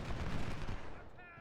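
Cannon fire on a Civil War battlefield in Ultimate General: Civil War at the First Battle of Bull Run, a rumbling mass of distant booms and musketry that fades toward the end.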